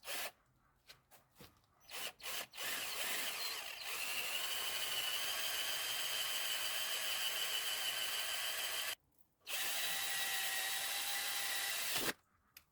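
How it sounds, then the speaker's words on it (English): A power drill whines steadily while drilling out stuck, stripped screws on a Honda CBR600F3 motorcycle under restoration, starting with a few short bursts, then a long sustained run with one brief pause before stopping. "there's not much left of them, so they're probably going to drill them out"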